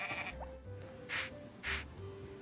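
Sheep bleat in a Harvest Moon farming video game, two short bright cries about half a second apart over soft background music.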